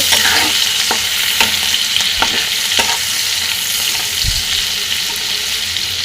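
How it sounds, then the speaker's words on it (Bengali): Beetroot, cabbage and turnip frying with salt and turmeric are stirred in a pan, a steady close sizzle broken by regular scraping strokes of the spoon, with no talking. "এবার এটাকে আমি নেড়ে ফেলে দেবো"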